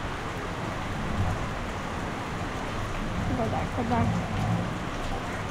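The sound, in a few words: heavy rain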